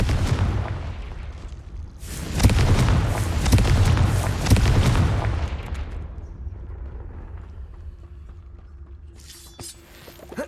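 A Confringo blasting spell explodes in Hogwarts Legacy, a deep rumbling boom that swells over a few seconds and then slowly fades into quiet.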